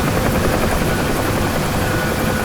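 A UH-1 Huey helicopter in the DCS flight simulator hovers near a runway, its rotor and turbine making a loud, steady whirring drone up close with no voices.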